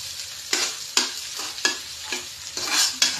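Chili frying in a little oil and being stirred, with a steady sizzle broken by about six rhythmic scraping stirs, close and fairly loud.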